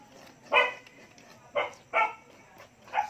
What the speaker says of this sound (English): Sorry for dog, it's too noisy.